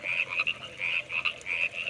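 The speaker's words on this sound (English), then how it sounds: "Our frog friends are back." Frogs croak in repeated rhythmic pulses, a chorus of moderately near calls steady throughout with no talk over them.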